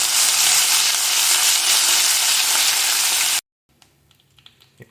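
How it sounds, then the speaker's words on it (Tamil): Curry leaves sauté in hot oil for a ginger gravy, a loud, dense sizzle that holds steady for several seconds and then cuts off abruptly, leaving faint clinks and rustles. "கருவேப்பிலை நல்லா வதங்கிடுச்சு."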